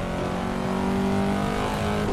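A Corvette C7 Stingray engine in Assetto Corsa holds a steady, loud, droning tone as the car runs down a straight at speed, with no voices.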